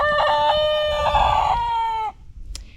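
A single close, loud chicken call rings out for about two seconds with a sustained tonal quality, then cuts off, leaving faint background sounds.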